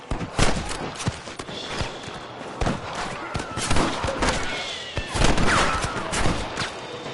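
Gunfire in the video game Red Dead Redemption on PS5 crackles in rapid irregular volleys of loud shots, some overlapping, with horse hooves and action sounds mixed in.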